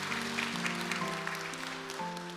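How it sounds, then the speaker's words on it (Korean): A church congregation applauds in a steady, even wash of clapping, heard under a sustained organ or keyboard chord. "박수하시고 들어오세요"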